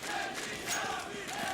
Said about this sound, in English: the crowd are getting behind Na'Vi